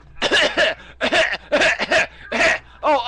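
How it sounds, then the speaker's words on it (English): A person coughs in a rapid series of harsh bursts, about six in three seconds, loud and close with short gaps between. "I'm coughing up my lungs now"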